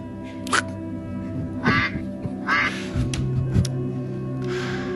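A person's voice imitates the quacking duck from Wendy's commercials, giving several short nasal quack-like bursts over a low steady background hum, close and fairly loud.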